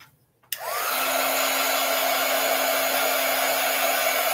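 A hair dryer switches on and blows steadily at close range to dry a paper craft project with glue and tape, a loud continuous whooshing roar with a low motor hum and no talking.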